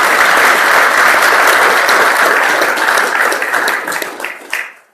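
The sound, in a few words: audience round of applause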